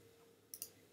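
Computer mouse clicks while working in GNS3 network software, two quick sharp clicks close together, faint and near, over a quiet background hum with no talking.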